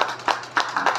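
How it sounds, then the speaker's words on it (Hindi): Scattered hand claps from a poetry recital audience after a ghazal, a few separate bursts of clapping spread over one second rather than full sustained applause, moderately close. "एक बार जोरदार तालियां बजा।"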